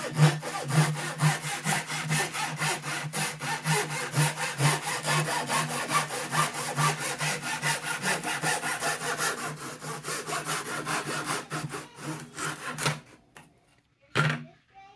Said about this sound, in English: These are a fine crosscut saw